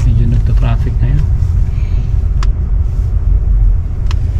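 Road traffic rumbles steadily along a street in Blaxland, a continuous loud low drone of passing cars with people talking over it at the start.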